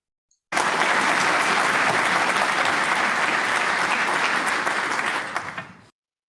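A webinar audience gives sustained, dense applause, steady and fairly loud for about five seconds before fading out, with no voices over it.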